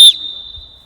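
A referee's whistle is blown once, a sharp loud shrill blast that snaps off quickly and leaves a thin, fading high tone.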